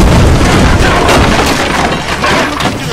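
A gas can shot and blowing up in a GTA video game, a loud booming explosion with crashing debris that stays dense and sustained for about three seconds.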